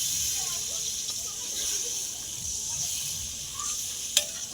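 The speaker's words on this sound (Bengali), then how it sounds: "এবার আমি জল দিয়ে দিচ্ছি।" Water poured into a hot pan of paneer tel jhal curry with dried and ground chilli, giving a steady broad sizzle and hiss throughout, fairly close and continuous with one brief sharp clink near the end.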